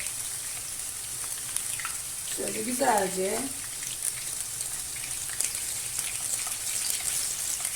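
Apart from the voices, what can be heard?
frying in oil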